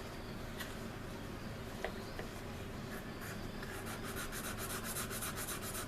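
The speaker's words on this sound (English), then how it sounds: "There's a little more sanding right here." Sandpaper rubbing filler on the engine nacelle of an Anigrand C-124 Globemaster scale model aircraft, a steady close scratchy scrubbing that runs continuously and grows busier with rapid back-and-forth strokes toward the end.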